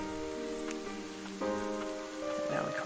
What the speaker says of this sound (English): And now we cross into the rain.